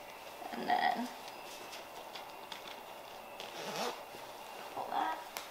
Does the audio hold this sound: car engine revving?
no